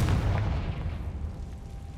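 A Confringo blasting spell goes off in Hogwarts Legacy, a single deep booming explosion that hits hard at the start and then rolls on as a sustained low rumble for the rest of the moment.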